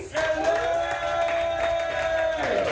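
Crowd at a live coffee-judging event cheers, whoops and claps in a loud, sustained burst lasting the whole moment, with a bright tonal whistle or shout riding above the noise.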